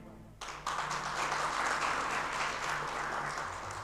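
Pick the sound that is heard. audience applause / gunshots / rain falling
audience applause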